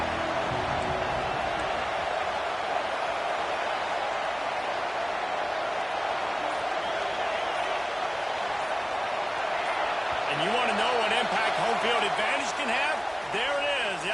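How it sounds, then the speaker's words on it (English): A steady, dense roar of a large stadium crowd in a college football video game, Oregon vs USC, fills the whole stretch, with faint voices rising near the end. "This crowd bringing the energy and noise early."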